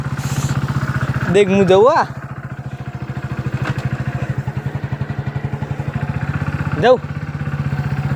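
A motorcycle engine idles close by with a steady, rapid low thump. Voices speak over it at the start and again near the end.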